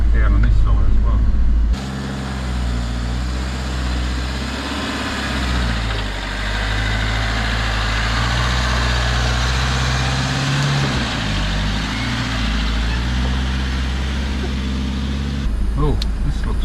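An Iveco Daily 4x4 Ultra Tourer creeps along a tight bush track in East Arnhem Land in first gear, its engine a loud, steady low drone throughout, with brief noisier moments at the start and end.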